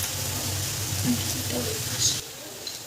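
Garam masala stirred into kochi kola ghonto, a Bengali green banana curry, sizzling steadily in a hot pan at close range. The frying noise drops abruptly near the end, and a voice talks over it.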